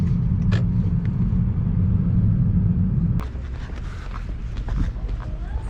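Car driving on the road on the way to deliver leather keychains: steady loud engine and road rumble from inside the vehicle, easing to a lower hum after a sharp click partway through.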